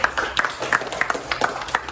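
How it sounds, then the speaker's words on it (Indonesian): A classroom of pupils claps for a classmate, a light burst of scattered, overlapping handclaps at moderate distance, steady for a couple of seconds without talk. "Tepuk tangan untuk temannya dulu"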